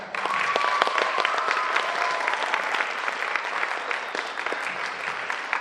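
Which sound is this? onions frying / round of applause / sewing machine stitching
round of applause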